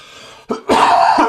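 A man on a live show coughs hard, a rough throat clearing followed by a loud, sustained hacking cough close to the microphone.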